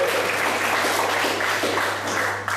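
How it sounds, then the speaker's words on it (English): An audience applauds for an honoree at a professional development session, a steady wash of clapping holding at an even level throughout with a low hum beneath. "Let's clap it up for Ms. Donna."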